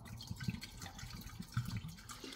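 Descaling solution poured into an electric kettle, a soft liquid splash and gurgle with a few small dripping pulses, faint and close.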